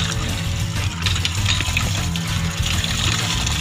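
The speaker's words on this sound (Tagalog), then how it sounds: "lagyan ng konting tubig." A little water poured into a cooking pot, a steady trickling splash over a low hum of background noise, continuous and fairly close.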